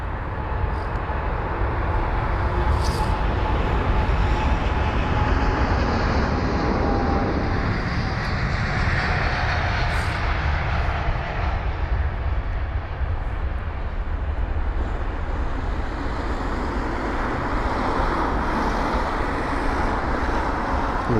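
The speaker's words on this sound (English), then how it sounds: "We've got Fin Air with the A350-900 with the Bringing Us Together livery." A Finnair Airbus A350-900 in Bringing Us Together livery taxis at London Heathrow, a steady, loud engine rumble and hiss with shifting tone, blended with background traffic noise and no voices.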